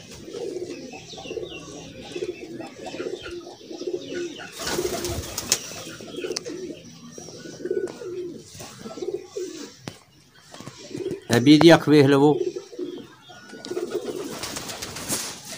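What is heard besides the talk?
Sialkoti pigeons cooing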